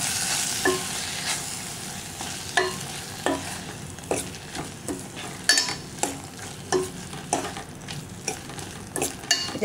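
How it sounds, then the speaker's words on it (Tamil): Mint leaves sauté in a pan for Tamil mint rasam, a steady close sizzle broken by regular scraping stirs of a spoon roughly every second. "இப்போ அதை நல்லா வதங்கட்டும்."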